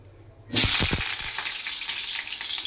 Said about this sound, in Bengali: চলো একা একা সবজিগুলো সব ভেজে নিই